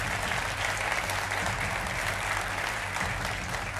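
A studio audience at a televised Hindi political debate show claps in a dense, sustained wave, loud and even throughout with a low hum beneath, no clear voices.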